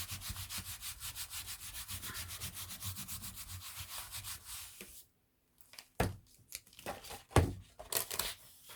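Paper rubbed by hand over a gelli printing plate, a steady rhythmic scraping for about five seconds, then a pause followed by a few louder, separate rubbing strokes.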